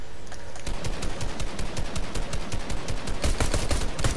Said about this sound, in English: Oh, I hit him with the pistol.